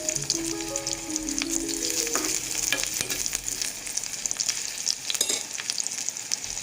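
Three small shallots frying in coconut oil with a pinch of fenugreek seeds give a steady, close crackling sizzle, stirred now and then, with no talking.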